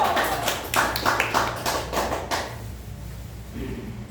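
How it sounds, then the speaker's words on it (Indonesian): Classmates clapping hands in a classroom quiz session, a short burst of several distinct claps close by for about two seconds, then fading into quiet room tone. "tepuk tangan dulu dong"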